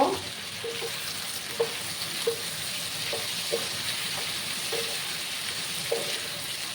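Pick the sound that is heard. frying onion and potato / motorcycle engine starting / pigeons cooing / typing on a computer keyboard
frying onion and potato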